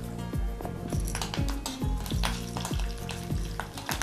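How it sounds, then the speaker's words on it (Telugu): Mustard seeds, cumin, curry leaves and dried red chillies sizzle and crackle in hot oil as a tempering for moong dahi bonda, with rhythmic scraping stirs of a spoon against the pan every half second. "అది నూనె కాగింది కదా, పోపు సామానం వేసుకోవాలి"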